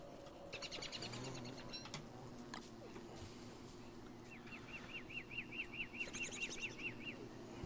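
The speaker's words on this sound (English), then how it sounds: "Let's go piss off a bird." Cartoonish bird chirps in the video game Don't Starve, quick high tweeting trills early on, then a rapid repeated chirping run and another trill, over a low game ambience.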